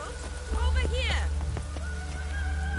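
Steady rain falls in the Witcher 3 game world, a continuous hiss of drops on surfaces running beneath speech and other game sounds.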